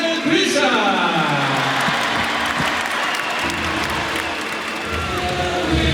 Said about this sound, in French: Veuillez vous applaudir les judokas.